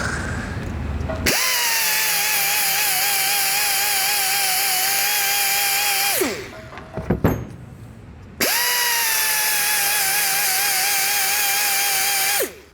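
A power grinder whines steadily and loudly while trimming a part during a 3-inch lift kit install on a 2020-or-newer GM 2500 truck, running in two long bursts separated by a short pause with brief clatter.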